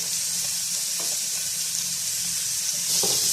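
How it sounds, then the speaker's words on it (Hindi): Small pieces of onion fry in hot oil with a steady, dense sizzle that holds at a constant level throughout, broken by a few faint stirring clicks and no voices. "अब हम इसको अच्छे से फ्राई कर लेंगे।"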